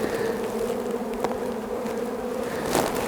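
Honeybees buzz steadily at an opened hive during an April inspection in Outaouais, a continuous close drone with a brief louder swell near the end, heard alone.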